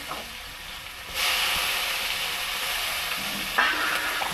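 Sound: frying chillies and vegetables for fish curry

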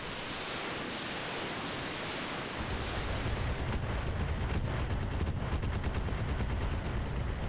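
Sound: missiles firing in video game Roguetech

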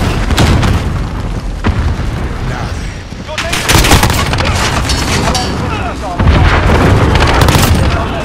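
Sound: cruise missile explosion in Call of Duty: Modern Warfare video game

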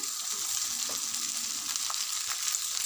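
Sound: stirring rice with seasoning in a hot pan

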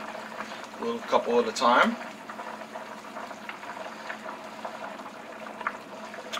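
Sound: homemade noodles dropped into boiling chicken broth

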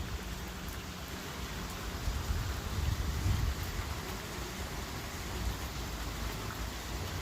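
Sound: rain falling

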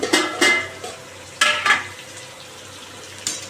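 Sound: sweet potatoes frying with cumin and green chilli

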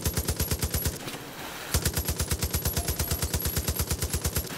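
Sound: carbine gunfire in the video game Far Cry 5

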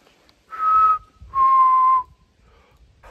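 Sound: voice imitating a whistle

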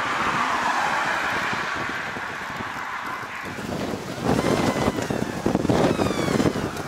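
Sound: wind blowing during a thunderstorm chase

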